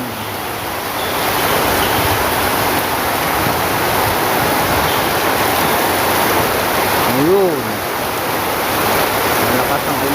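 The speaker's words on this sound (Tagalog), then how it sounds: "Ang lakas ng ulan dito." Heavy rain pours in a dense, steady roar throughout, with a brief voice rising over it partway through.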